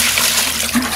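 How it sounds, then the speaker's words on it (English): Water poured from a container into Portland cement mixed as a bonding agent for parging an old painted retaining wall, a steady close wash of liquid with no talk. "and I put a little water in there"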